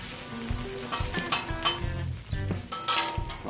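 Food sizzles loudly on a 36-inch Blackstone flat-top griddle for a BLT sandwich as a spatula scrapes and flips it, with several sharp metallic clicks over continuous frying hiss.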